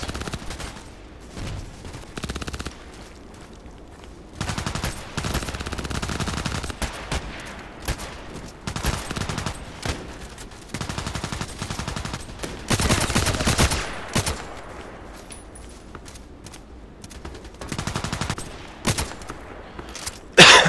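Gunfire in the online shooter video game Contract Wars: loud bursts of automatic fire and single shots come in clusters across a long stretch, with quiet gaps between them.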